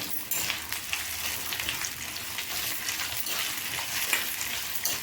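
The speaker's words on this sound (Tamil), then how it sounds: "ஃபஸ்ட்டு உருளைக்கிழங்கை போட்டு வதக்கிடுவோம்" Steady, loud sizzling of potatoes frying in hot oil with onions, a continuous crackling hiss with faint stirring scrapes and no voices.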